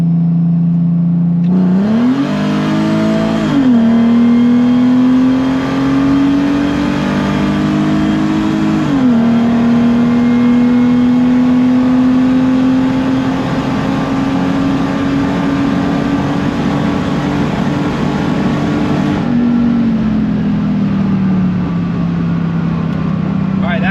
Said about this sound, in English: We're going to get to a nice straight area and then hit that throttle and see.